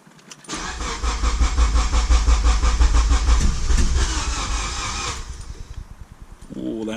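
A Honda Civic EG with a K24 engine swap cranks over loudly for several seconds in a steady, rapid starter rhythm without catching, then the effort stops and a voice begins at the end.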